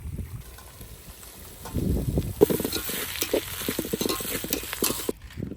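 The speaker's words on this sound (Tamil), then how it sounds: "இது இடிச்சு வச்ச இஞ்சி பூண்டு பேஸ்ட்டை போட்டுடலாம்." Crushed ginger-garlic paste hits a hot pan during outdoor village cooking, bursting into a crackling sizzle with stirring scrapes that grows louder midway, then drops off near the end.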